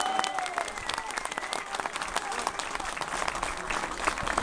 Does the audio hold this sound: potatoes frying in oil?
no